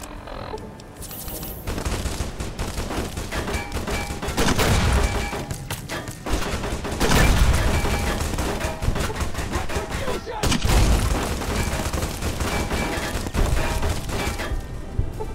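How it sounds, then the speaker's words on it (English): Heavy gunfire in Fallout: New Vegas, a long barrage of rapid shots and automatic bursts with booming impacts and crashes, loud and continuous, with occasional voices beneath the fighting. "Where are they shooting from?"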